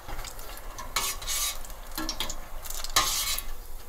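Breakfast potatoes fry in hot oil with a steady sizzle and crackle, while bright bursts of stirring and scraping rise over it at about one-second intervals, close and moderately loud.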